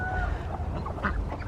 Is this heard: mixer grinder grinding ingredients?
no